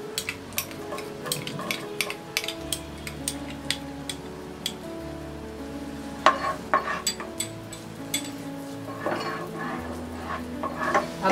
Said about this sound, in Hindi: बटर मेल्ट होने के बाद हम डालेंगे ये गार्लिक